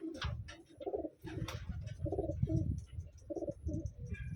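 Pigeons coo in repeated low, throaty phrases, close by and fairly steady, with faint chirps from other birds around them in what sounds like a loft of Taiwanese racing pigeons.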